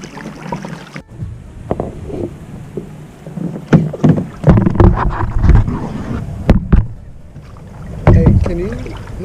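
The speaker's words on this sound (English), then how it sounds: "We have been paddling" Kayak paddle strokes splash and slosh through creek water, with bumps and wind buffeting the microphone while people chat and laugh nearby.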